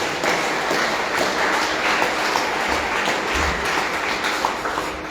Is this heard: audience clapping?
yes